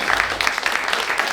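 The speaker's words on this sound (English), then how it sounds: "Can we get a round of applause for everyone here?" Audience applause at the close of a panel discussion on data engineering, dense and fairly loud clapping from a room of attendees, continuous through the brief moment.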